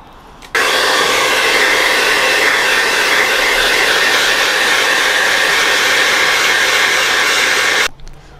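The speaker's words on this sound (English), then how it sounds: "I'm now gonna blow dry my hair." A hair dryer blows steadily on freshly dyed hair, switching on sharply and running at a loud, even whoosh for about seven seconds before cutting off, with no talking.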